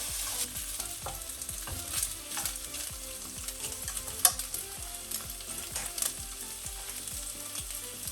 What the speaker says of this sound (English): So we are going to use low heat to fry the pork ribs a little bit.